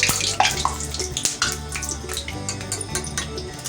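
Water splashes and gurgles as it is poured over freshly fried pakoras in a home kitchen, a continuous close, bubbly stream with small clatters.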